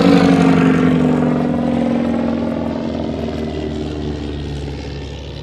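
A de Havilland Chipmunk propeller aircraft, a type used as a glider tug, drones with a loud, steady piston-engine hum that fades gradually as it moves away. No one speaks.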